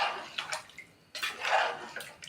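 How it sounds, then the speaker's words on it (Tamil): Water is poured into a pot of rice for mutton or chicken biryani, making soft splashing and gurgling bursts, a short pour followed by a longer one, fairly quiet and close with no voices. "தண்ணி ஊற்றிட்டு இது மாதிரி நல்லா கிளறி விட்டுக்கோங்க"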